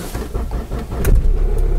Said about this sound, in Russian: Завели автомобиль